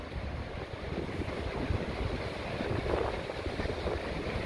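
Seaside ocean waves wash in a steady, dense roar with gusting wind rumbling across the microphone, continuous and fairly loud throughout, with no voices.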